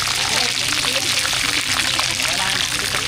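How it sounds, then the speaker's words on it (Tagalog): Chicken fries in hot oil with a dense, continuous sizzle and crackle close by, while people talk over it. "ang ginagawa naman ay ang pagluluto ng manok"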